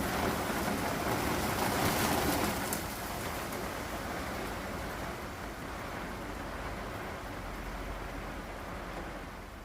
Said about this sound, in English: It's hailing, and they gave it full sunshine today.